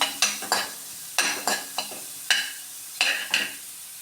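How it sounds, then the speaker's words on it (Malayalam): Onion being sautéed in a pan, a spatula scraping in repeated short strokes, about ten in irregular bursts over a low sizzle, close and clear with no voices. "നന്നായി ആ ഉള്ളി ഒന്ന് വഴറ്റി കൊടുക്കാം."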